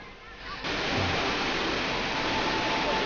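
Si Tat Ton waterfall produces a steady, loud rush of flowing water that fills the scene without pause.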